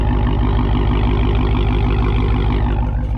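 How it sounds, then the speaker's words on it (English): A Dodge Hellcat with a mid-muffler delete idles, its exhaust giving a steady, loud, deep rumble that pulses evenly throughout, close by with no talk. "the exhaust still sounds very good even while idling, and all I did was a small mid-muffler delete"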